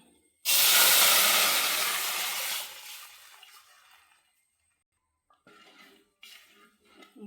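Kerala-style halwa mixture is poured into a hot pan with cashews, bursting into a loud, sharp sizzle that slowly fades over a couple of seconds, followed by quieter scraping and stirring sounds.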